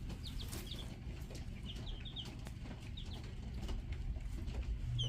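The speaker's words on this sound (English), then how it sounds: "I wonder if the chickens will eat this." Backyard chickens, including young chicks, cluck and peep faintly in short scattered chirps over a steady low outdoor rumble.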